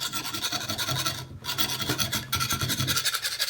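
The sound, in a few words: sharpening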